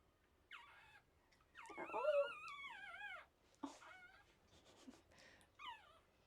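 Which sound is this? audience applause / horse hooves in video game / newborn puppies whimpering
newborn puppies whimpering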